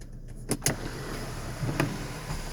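The panoramic sunroof of a 2019 VW Arteon 2.0T SEL AWD opens with a few sharp mechanical clicks followed by a low electric motor whir, heard close inside the cabin.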